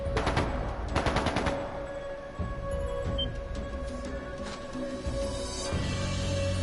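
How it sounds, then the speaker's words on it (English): Bursts of rapid gunfire in the video game Trails of Cold Steel II crackle in the distance over a steady electronic hum, with scattered single shots following. "That sounded like gunfire."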